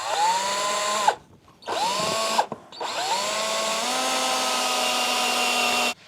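Power drill driving screws into a board for a wooden beehive stand: three loud, close whirring runs, each rising in pitch as the motor spins up, with the last run held steady for about three seconds before cutting off.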